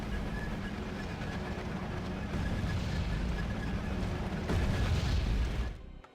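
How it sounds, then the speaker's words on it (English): In Wargame: Red Dragon, artillery fires in a sustained heavy rumble, one sharp report landing near the end before the roar cuts off abruptly. "there goes some artillery"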